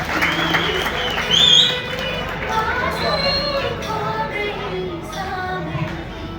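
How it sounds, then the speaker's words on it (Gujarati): Applause from an audience welcoming a guest to the stage at a Gujarati community honouring ceremony, a broad, steady wash of clapping that swells briefly near the start, with crowd chatter and a voice mixed in. "આવો રાજેશભાઈ, જોરદાર તાળીઓથી વધાવશું આપણે"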